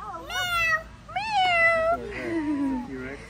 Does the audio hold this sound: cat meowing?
yes